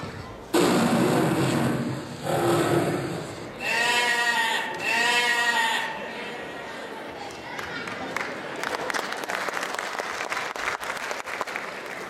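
Sheep bleat in several loud, wavering calls close by, followed by a softer rustling, clattering background.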